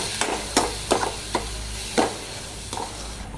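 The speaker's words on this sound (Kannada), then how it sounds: "ಇವಾಗ ಇದನ್ನು ಈರುಳ್ಳಿನ ಸ್ವಲ್ಪ ಗೋಲ್ಡನ್ ಕಲರ್ ಬರೋ ಥರ ಹುರ್ಕೋಬೇಕು" Chopped onions frying in a pan for egg curry, a steady close sizzle broken by repeated sharp scrapes and stirs of a spatula at uneven intervals.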